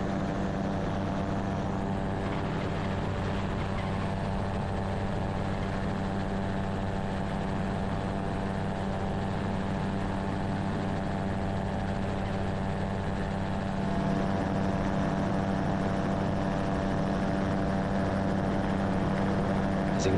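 Steady, loud drone of a turbocharged open-cockpit gyrocopter in flight, its engine and rotor holding a constant pitch throughout, with a slight rise in intensity partway through and no talk.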